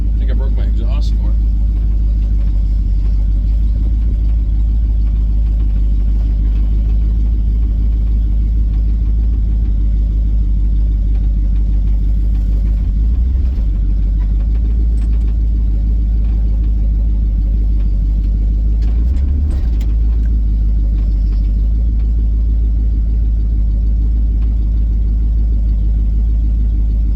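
A car with a broken exhaust rumbles at a car show, a loud, steady low drone that runs the whole time while voices talk faintly nearby.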